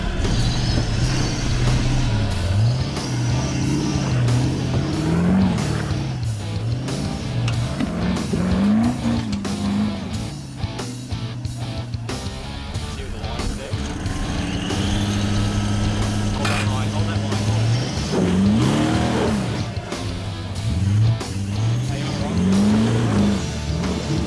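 An off-road 4WD climbing a rock step on a hardcore scenic track, its engine revving hard and rising and falling in pitch through repeated throttle surges, close and loud, with talk underneath.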